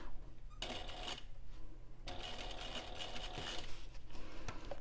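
A sewing machine stitches piping onto a Loule bag at a 3.5 stitch length, running in close, buzzing bursts with short pauses between runs and a faint mechanical clatter, no voices.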